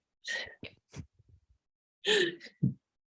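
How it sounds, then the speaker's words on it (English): A person sneezes, a sharp burst with a quick intake of breath, then a second sneeze-like burst follows after a brief pause. "Welcoming in June with a sneeze"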